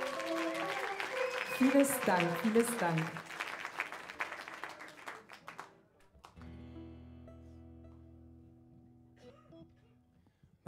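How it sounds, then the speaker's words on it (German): Applause from a concert audience for a singer, a dense clatter of many hands mixed with a voice speaking over it, fading out after about six seconds into quieter sounds. "Könnt ihr mal in die Hände klatschen, bitte?"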